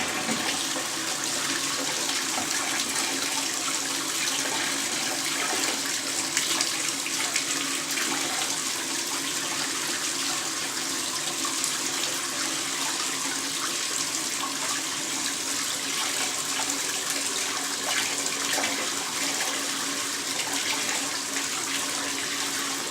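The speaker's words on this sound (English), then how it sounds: "So first things first, turn on the water." Water gushes steadily from a tap, a constant loud hiss and splash that continues unbroken with no talking.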